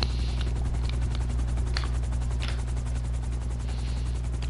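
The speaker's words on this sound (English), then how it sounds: "Why is there a fucking helicopter?" A helicopter drones steadily overhead, its low rotor thump constant and loud throughout, with faint chirps above the hum.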